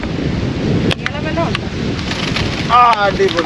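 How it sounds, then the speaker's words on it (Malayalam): A sudden gust of wind and rain sweeps over a traditional fishing spot in Kerala, a loud, rough rushing noise that surges and buffets the microphone while voices call out beneath it. "അപ്രതീക്ഷിതമായിട്ടാണ് മഴയും കാറ്റും കൂടെ ഇങ്ങോട്ട് വന്നത്"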